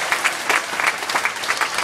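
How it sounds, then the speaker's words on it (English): Crowd applause at Clark's Trading Post bear show, a steady patter of many hands clapping close by with rhythmic surges, and no voices over it. "we'd like a little more applause"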